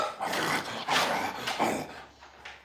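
A dog growls and snarls in several rough bursts close by, with a bully breed in its cage setting; the noisy, rasping pulses swell and fade over a few seconds with no talking.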